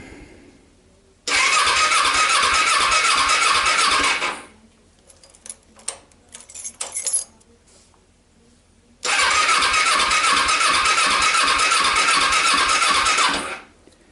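A stored motorcycle, its fuel burned off and carbs untreated, cranks in two long loud bursts separated by a pause with faint clicks, without firing up.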